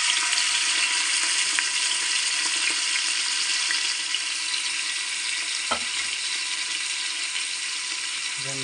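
Crushed native onion frying over low flame in a pan for a village-style country chicken sambar, a steady bright sizzle throughout with a faint clink or stir near the end.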